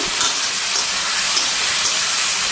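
Spices tipped into a hot pan of sizzling oil, a steady loud hiss and crackle of frying that runs unbroken throughout, close by and with no talking.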